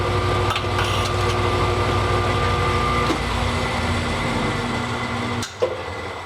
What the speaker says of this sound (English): we'll come in and test it with the motor.